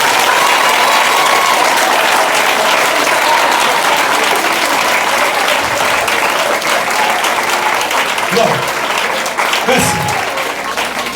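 A church congregation bursts into long, steady applause, a dense and loud wash of clapping that carries on for several seconds while a voice briefly speaks over it.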